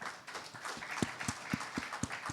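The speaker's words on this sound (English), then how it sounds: "Let's give them a round of applause." Applause for panelists at a conference on tokenization and stablecoins, faint and somewhat distant, with a handful of distinct claps standing out in a fairly regular rhythm over a soft wash of clapping.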